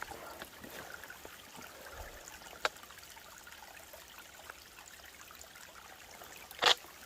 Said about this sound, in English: you got a little creek crossing